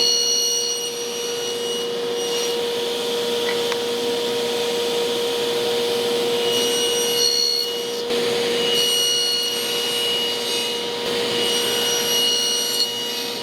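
A table saw runs continuously with a high, steady whine, cutting shoulder cuts on rails for Shaker style cabinet doors, the tone dipping briefly as wood passes through, with no talking.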